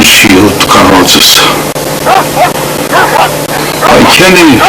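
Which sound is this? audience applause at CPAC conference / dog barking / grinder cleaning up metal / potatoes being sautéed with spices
dog barking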